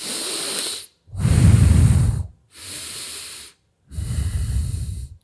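Slow diaphragmatic breathing that inflates and lowers the belly: four long, close breaths in a steady cycle, each a soft airy rush with short silent pauses between them, heard alone without any talk.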